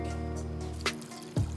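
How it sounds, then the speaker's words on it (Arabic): A small splash of water poured into a cooking pan with carrots and onion, two short liquid bursts over a steady background hum, brief and close. "هلا بنحط معهم قليل من المي، ما منكتر مي"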